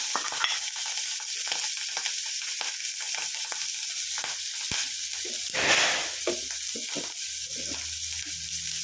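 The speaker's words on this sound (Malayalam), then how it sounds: "തേങ്ങ ഉള്ളി പച്ചമുളക് വെളുത്തുള്ളി എണ്ണ വെച്ചു കടകിട്ടു അപ്പോൾ എല്ലാം കൂടെ എണ്ണയിലേക്ക് ഇട്ട് കൊടുക്കാം" Coconut, onion, green chili and garlic fry in oil for a Kerala-style drumstick thoran, making a continuous, fairly quiet hiss with scattered scraping stirs and one brief louder sizzling surge.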